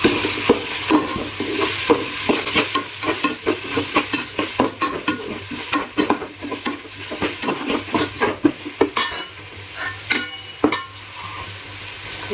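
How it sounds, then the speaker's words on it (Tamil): Crushed garlic and ginger sautéing in a pan: a loud, steady sizzle with frequent spoon scrapes and stirring clatter throughout, close up and with no talk. "நம்ம இடித்து வச்சுருக்க பூண்டை போடணும். பூண்டு இஞ்சி போட்டு நல்லா வதக்கணும்."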